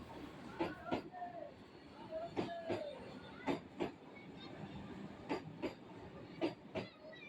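A Vande Bharat Express train rolls through a station with a steady rumble and a regular clickety-clack of wheel beats, heard at moderate distance among faint voices.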